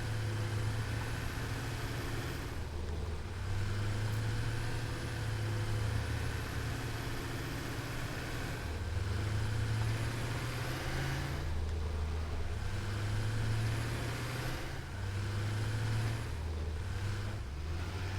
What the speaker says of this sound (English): mine's just a diesel engine sound